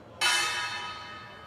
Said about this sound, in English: A single bell rang out on Wall Street today to remember him